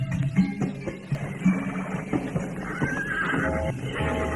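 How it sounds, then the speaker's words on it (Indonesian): A horse whinnies loudly amid clip-clopping hooves as two horses pull a carriage in an audio drama, with the neigh rising clearly over the rumble of the cart and no talk. "kuda."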